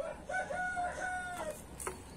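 A young silver rooster crows once close by, a drawn-out, wavering call lasting about a second and a half, followed by a brief cluck.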